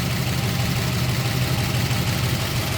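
A 1954 Oldsmobile 88 Holiday Coupe's 324 cubic inch Rocket V8 idles steadily, a loud, even low rumble with no voices over it.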